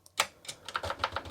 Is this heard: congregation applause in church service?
no